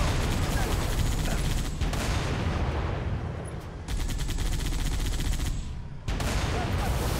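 Mounted turret firing in the video game Halo Reach: loud, dense, rapid bursts of gunfire that run almost continuously, broken by a couple of brief pauses.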